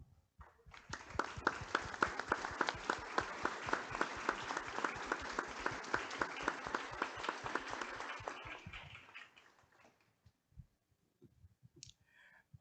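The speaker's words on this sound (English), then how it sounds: "I'd like for them to just stand up and receive a round of applause" An audience at a lunchtime history talk applauds recovery program managers who worked after Hurricane Katrina: sustained, dense clapping for about eight seconds that then fades to a few scattered claps and near silence.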